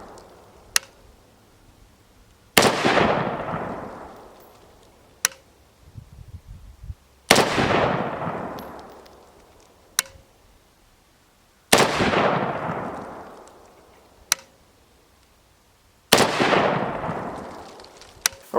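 A Century Arms BFT 556 AK-47 rifle with a muzzle brake fires outdoors. Four loud single shots come several seconds apart, each echoing away, and sharp smaller pops fall between them.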